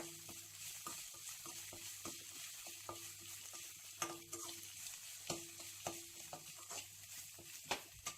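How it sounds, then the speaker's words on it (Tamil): Onions with ginger garlic paste sauté in a pan for a cassava (tapioca) fry. A soft, steady sizzle runs throughout, broken by frequent scrapes and taps of a spatula stirring close by. "இஞ்சி பூண்டு பேஸ்ட் வந்து நல்லா பச்சை வாசனை போகிற அளவுக்கு நல்லா வதக்கிக்கோங்க."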